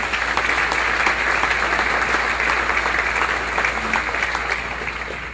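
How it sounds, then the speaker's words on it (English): An audience at a 2019 annual meeting applauds the youth tour runners-up with dense, steady clapping that holds throughout and fades slightly toward the end. "please give the runners-up a round of applause"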